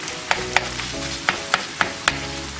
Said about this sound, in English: chop up the beef into small pieces, into small crumbles